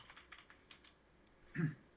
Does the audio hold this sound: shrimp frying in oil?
no